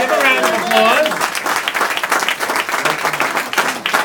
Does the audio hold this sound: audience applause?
yes